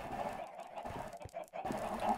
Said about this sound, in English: My chickens, of course.